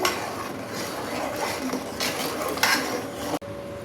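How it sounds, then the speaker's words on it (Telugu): Semolina being stirred into payasam in a cooking pot, a spoon scraping and clinking against the metal in a steady, close rhythm with soft background hiss, no talking. "ఇప్పుడు వచ్చేసి మనము రవ్వని యాడ్ చేద్దాము ఉండకట్టకుండా కలిపెట్టాలి"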